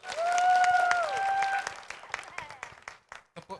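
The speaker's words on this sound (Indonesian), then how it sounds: "Tepuk tangan buat Tuhan Yesus." A church congregation at a home fellowship meeting breaks into scattered, uneven clapping as a sustained sung or hummed tone fades, the claps thinning out into a few sharp, isolated hits near the end.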